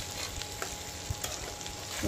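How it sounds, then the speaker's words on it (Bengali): Chicken sizzles quietly in a pan over low flame, with a few soft scrapes and taps from stirring. "একটু লো ফ্লেমে আর একটু ভালোভাবে কষিয়ে নেব মাংসটা"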